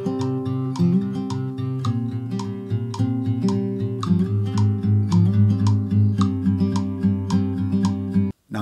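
Acoustic guitar plays a song at a slightly raised tempo, a steady fingerpicked pattern of bright plucked notes over a driving low-string rhythm, close and clear, stopping abruptly at the end.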